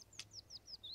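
Birds in the Sims 4 video game give a quick run of about five or six high, thin chirps in even succession, faint and close, over a low background hum.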